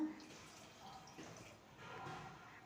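Water is poured into a pan for drumstick masala curry, a soft, faint splashing and trickling that lasts a couple of seconds with a low voice in the background.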